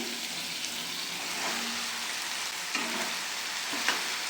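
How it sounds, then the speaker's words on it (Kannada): Chopped ridge gourd hits a pan of frying tomatoes, giving a steady close sizzle with a few scraping stirs and clicks from the spoon, and no voices. "ಈ ಥರ ಫ್ರೈ ಮಾಡಿ ಟೊಮೊಟೊನೆಲ್ಲ ಟೊಮೊಟೊ ಬೆಂದಿರೋ ಸಾಕು ಇವಾಗ ಹೀರೆಕಾಯಿ ಹಾಕ್ತಾ ಇದ್ದೀನಿ"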